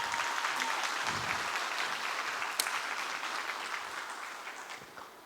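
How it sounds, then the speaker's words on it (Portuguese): An indoor audience claps steadily at a business talk, a dense, even patter of many hands heard at moderate volume that slowly fades toward the end. "Uma salva de palmas aqui para o José, pessoal."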